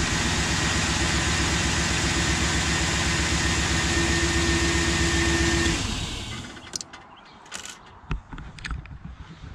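A GM Gen 3 LS V8 idles loudly and steadily with a dense, even rumble, then shuts off, leaving faint clicks and handling noises, with no talking.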